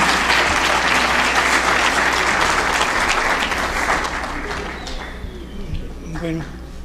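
Audience applause at a Día del Médico forum welcoming a doctor, loud dense clapping filling the room and gradually thinning out toward the end.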